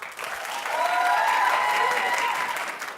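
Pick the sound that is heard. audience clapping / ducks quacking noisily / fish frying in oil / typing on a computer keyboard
audience clapping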